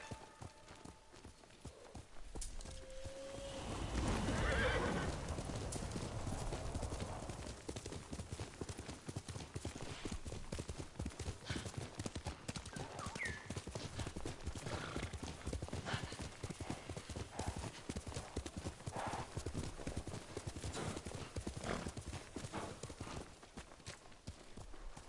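Steady clip-clop of horse hooves ridden across terrain in Ghost of Tsushima, a continuous rhythmic gallop throughout with a brief whinny near the start and faint game sounds behind.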